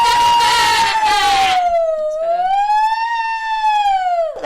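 A high, wailing voice imitates a siren, sliding down and back up in a long continuous tone, loud and close, with noisy breath at the start.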